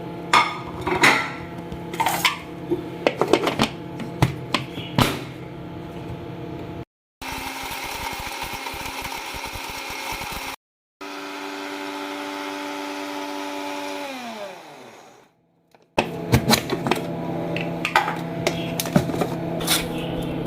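An electric grinder grinds cooled cumin and coriander seeds into masala in two loud whirring runs. Its motor whine winds down after the second run, and clattering kitchen handling comes before and after.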